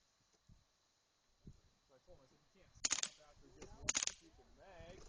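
An MP5 machine gun firing two-round bursts on a range, two loud close paired cracks about a second apart, with people talking throughout.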